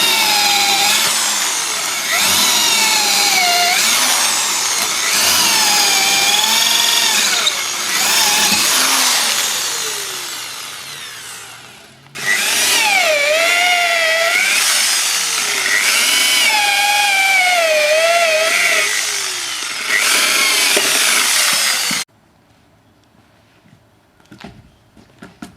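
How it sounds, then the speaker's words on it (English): A 12 mm drill bit bores straight through cypress timber for coach screws, a loud whining motor with rising and falling pitch as the bit bites, two long drilling runs separated by a brief pause, then the motor cuts out into quiet. "we're actually using a 12 millimeter drill to drill a hole right through"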